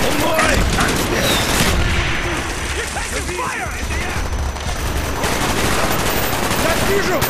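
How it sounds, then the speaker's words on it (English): Heavy automatic gunfire and explosive impacts from the video game Call of Duty Black Ops during a helicopter strike mission, a dense continuous barrage filling the scene, loud and near, with battle noise and shouted voices mixed underneath. "You're taking fire!"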